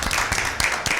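Applause from the audience for a quiz team at an Easter Bible quiz, a few bursts of hand clapping rising and dipping over about a second.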